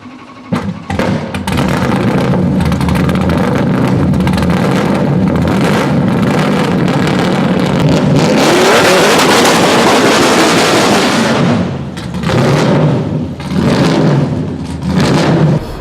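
A loud, powerful supercar engine revs and roars continuously at a supercar show in Monaco, swelling to a harsh peak before settling into throaty bursts of exhaust.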